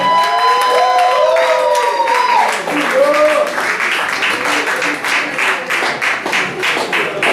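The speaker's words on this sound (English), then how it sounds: "Give it up to Stephanie Bennett." Open-mic poetry crowd claps and whoops for the next performer, voices shouting and cheering over dense applause at first, then settling into louder, steady, fairly rhythmic clapping.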